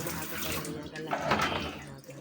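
Running water for a shower, a steady hiss and splash, moderately loud, continuous and heard alone.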